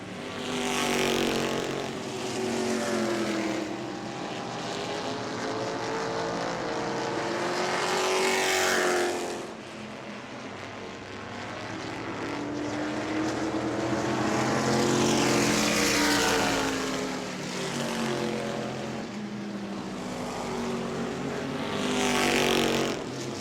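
Race cars lap New Smyrna Speedway, engines swelling loudly as each pack roars past and fading between passes, with repeated rising and falling pitch sweeps in waves.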